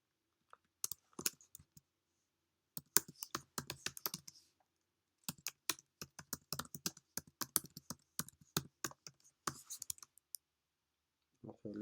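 Computer keyboard typing while writing Java or C# code, bursts of quiet, close keystroke clicks with pauses between runs, with no one talking.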